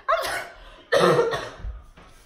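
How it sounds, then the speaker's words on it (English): Two harsh, close coughs in quick succession from a sick person, loud and raspy, with no talking. "Every time I try to talk, I cough."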